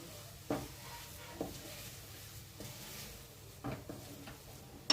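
Grated coconut with jaggery and a few lightly crushed small cardamom pods is stirred in a pan, making faint, sparse scraping strokes over a quiet background with a soft sizzle, and no one talks.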